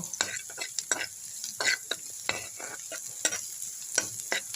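Fresh red amaranth greens with chopped onion and garlic tempering in hot oil: a soft background sizzle broken by frequent bright clattering stirs and spatula knocks, close and lively, with no talking.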